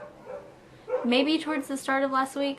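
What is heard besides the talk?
dog barking outside through open window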